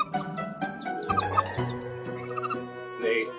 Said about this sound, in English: She'll drop down below the nest and start clucking in this soft, pulsing call